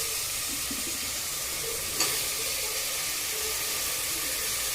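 Eggplant pieces are dropped into a hot pan that has been seasoned with salt and turmeric. They give a steady, close hiss of sizzling with one brief clatter partway through.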